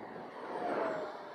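Xfly Sirius RC model airplane flying in high wind, a brief droning motor buzz that swells slightly and fades, heard at moderate distance and alone.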